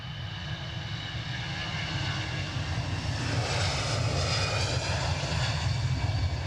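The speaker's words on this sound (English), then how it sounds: "Just wondering if we'll get a crossover shot with the Air France as it taxis in." An Air France airliner taxis at Edinburgh airport, its engines producing a steady, moderately loud roar and whine that swells slightly over a few seconds with no talk.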